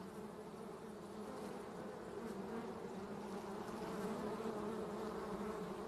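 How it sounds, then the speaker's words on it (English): A honey bee swarm leaving a new nest after removal from a roof: a dense, continuous buzzing drone of many bees, steady and moderately loud with no voices. "The bees that I took out from the roof did not like their new nest, and so they left."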